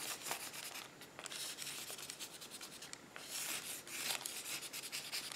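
Markers scratch and squeak across paper in quick, close strokes, including a permanent opaque pigment marker in metallic purple, with short rubbing and highlighting swipes in a quiet room.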